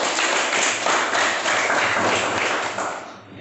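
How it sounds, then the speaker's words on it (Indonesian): Classroom applause for a student group, a dense steady wash of clapping from many hands that fills the whole stretch and thins out slightly at the end. "Oke, kita beri tepuk tangan untuk kelompok"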